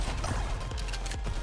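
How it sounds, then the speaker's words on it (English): A weapon reload in the Nikke shooter game gives a few muffled mechanical clunks and clicks over a dense, rumbling game soundtrack, fairly loud but partly masked. "Performing reload sequence."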